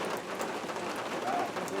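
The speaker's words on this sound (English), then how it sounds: "It's just pissing fucking rain right now." Heavy rain pouring down outdoors on a sticky, humid day, a dense steady wash of drops drumming close by without a break.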